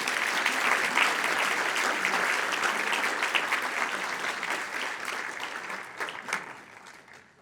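An audience claps steadily to welcome speakers onto the stage at a talk on Dutch painting, a broad, sustained wash of applause that gradually fades toward the end.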